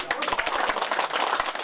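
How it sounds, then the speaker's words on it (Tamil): Audience clapping and applauding at a Pongal 2020 gathering, sharp claps standing out from a dense, lively round of applause that holds up close and loud from start to finish. "கரகோஷம் எழுப்பி அவர்களை நாம் பாராட்டுவோம், வாழ்த்துவோம்."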